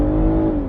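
A 2024 BMW Z4 M40i with its B58 engine and eight-speed automatic gives a brief, loud, smooth rev, a steady tonal drone that holds and then dips slightly at the end.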